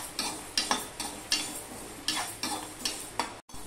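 Mung dal dry-roasting in a pan while a spatula stirs it in regular strokes, about ten crisp rhythmic scraping sweeps over a light rustle, close and loud, ending in a brief pause.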